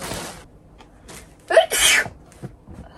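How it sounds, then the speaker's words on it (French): A single sharp sneeze bursts out close and loud after a brief inhaled gasp, with scattered soft talk-like sounds before and a faint rustle after. "Le nombre de fois que j'éternue en présence de sap, c'est dingue."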